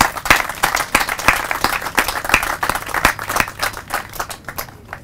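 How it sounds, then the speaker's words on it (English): A crowd at a tennis center celebration applauds steadily with many overlapping claps, loud and close, thinning out toward the end. "So I think that Nell also deserves a round of applause."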